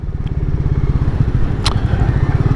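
Royal Enfield Meteor 350 single-cylinder motorcycle engine running close by, a loud steady thumping putter with even rapid pulses throughout and one brief sharp click partway, with no voices.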